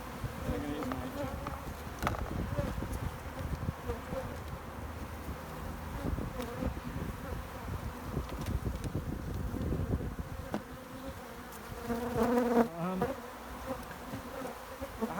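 A honey bee colony building comb inside a chimney hums in a dense, continuous buzz that stays loud and close throughout, swelling briefly near the end, with no voices.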